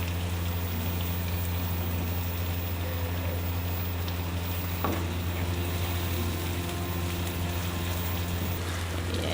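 Bhindi chicken masala (okra and chicken) simmers in a pan with a steady, continuous sizzle and bubbling that sounds close and even throughout, apart from a single faint clink partway through.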